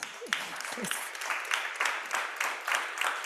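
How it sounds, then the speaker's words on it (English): Applause from a conference audience at an aviation environmental summit, a steady wash of clapping through the clip with a few brief voice sounds near the start. "round of applause."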